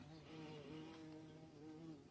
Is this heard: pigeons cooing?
no